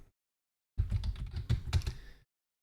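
Quick tapping on a computer keyboard as a revision number is typed, a close, soft burst of keystrokes lasting about a second and a half after silence.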